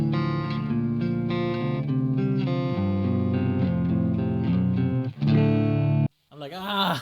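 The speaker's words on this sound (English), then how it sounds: "I'm gonna go coil split on a neck pickup." Electric guitar played on the neck pickup with the coil split, run through a Line6 HX Stomp, strums sustained chords and short phrases close and clear, then cuts off as a voice starts talking.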